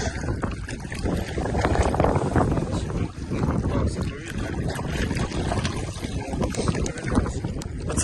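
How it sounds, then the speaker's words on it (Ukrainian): Strong wind buffets the microphone in a dense, continuous roar while fishing for zander on a reservoir, with water sloshing nearby and a voice talking underneath. "Вітер що, звісно, просто ужас."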